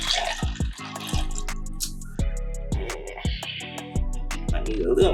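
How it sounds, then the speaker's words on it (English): Cranberry juice pours into a purple mixed drink in a series of short splashing, dripping bursts, heard near and fairly loud over background music, with no talking. "Pour some more of our cranberry juice in there."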